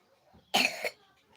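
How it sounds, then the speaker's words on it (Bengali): A single short, harsh cough close by, breaking an otherwise quiet background. "কাশি দেয় তো"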